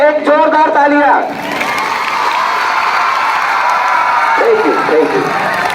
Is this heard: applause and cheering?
yes